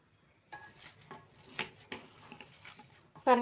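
Mutton keema mixture for vadai being mixed by hand in a bowl, with soft, irregular squelching and scraping taps across a few seconds, ending in a sharper, louder clatter.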